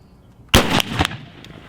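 Sharps 1859 Carbine black-powder rifle fired once, a single sharp, loud, close report followed by a brief echoing rumble that quickly fades.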